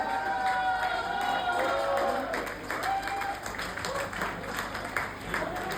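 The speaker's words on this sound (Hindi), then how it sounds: "जोरदार तालियां बजाई जाए इस सेगमेंट के लिए।" A crowd at a youth club event claps and cheers, a busy spread of applause with a few shouts, while a voice talks over it.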